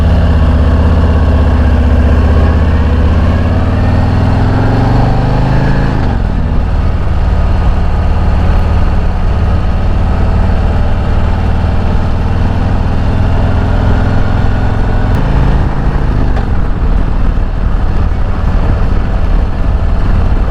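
A Harley-Davidson Road Glide motorcycle on the road gives a loud, deep, steady engine rumble, with throttle changes near the six- and fifteen-second marks and no voices.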